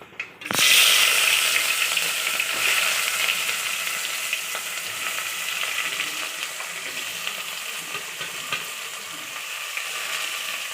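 Onions dropped into hot oil with whole spices like cinnamon and cloves for an Andhra-style chicken curry, starting with a sharp splash and settling into a steady, close, continuous sizzle.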